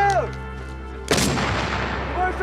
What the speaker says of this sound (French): L'artillerie.